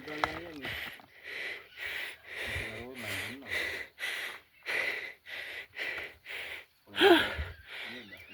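A man breathing heavily after a hot mountain bike ride on a trail near Taif and Jizan, Saudi Arabia: a steady series of rough, close panting breaths and gasps, roughly one every half second, with a little voiced effort mixed in.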